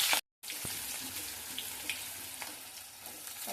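Green chillies and cumin seeds frying in a pan, giving a soft, steady sizzle with a few light clicks, heard close and faint after a brief silent gap.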